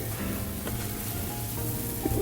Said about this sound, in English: It's like frying in its own butter.